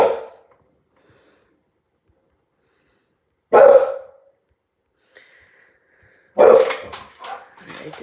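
A dog barks at a delivery man at the door, two loud bursts of barking separated by quiet, the second followed by snorts and short yelps close to the microphone.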